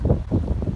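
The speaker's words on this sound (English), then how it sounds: "Really windy out here." Strong wind buffeting outdoors at a lake portage, a steady low roar with gusty rumble against the microphone, close and loud.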